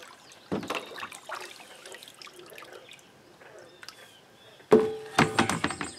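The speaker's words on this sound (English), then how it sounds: "Hose that off." Water hosed over a heavily encrusted cast iron pan after an ammonia soak: scattered splashes and trickling drips, then a sudden loud, close spray burst that runs on, with brief louder pulses near the end.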